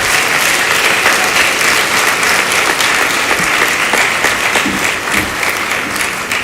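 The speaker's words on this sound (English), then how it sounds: "Let's clap for ourselves." Loud, dense applause from a large audience at a public relations knowledge-sharing conference, steady and sustained throughout with no speech over it.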